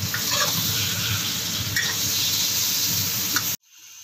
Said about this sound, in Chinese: 虾回一下锅，加点盐。